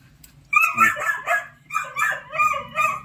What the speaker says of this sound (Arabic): دي كلاب بلدي